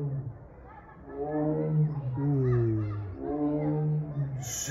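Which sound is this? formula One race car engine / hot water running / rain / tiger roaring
tiger roaring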